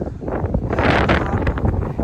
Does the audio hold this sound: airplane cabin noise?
no